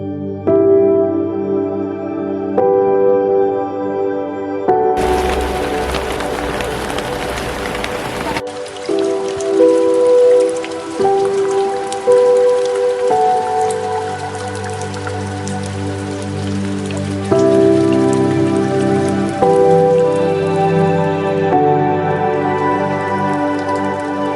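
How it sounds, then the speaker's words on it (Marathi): Steady monsoon rain patters throughout at Malshej Ghat, with a heavier rushing burst early on and a constant tonal hum underneath. "आता पाऊस चक्क चालू झाला"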